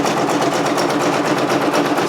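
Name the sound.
Brother PRS100 embroidery machine stitching zigzag then satin stitch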